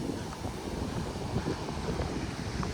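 High sea waves wash the beach at Mamaia, Romania, under a red-flag warning, making a constant rough, low rushing roar mixed with heavy wind buffeting the microphone.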